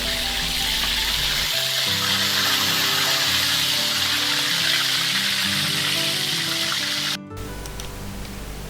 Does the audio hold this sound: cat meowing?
no